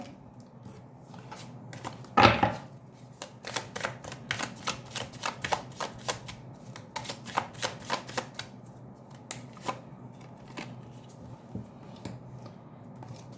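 Tarot cards handled at close range: one sharp riffling shuffle burst followed by a quick run of crisp card flicks and snaps as cards are drawn and laid down, fairly quiet with no talking.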